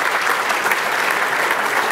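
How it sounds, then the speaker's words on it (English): An awards-ceremony audience at an ethnic business awards event applauds the small business category finalists, a loud, continuous crowd clapping that fills the space without pause. "How about another round of applause for all of our finalists in the small business category?"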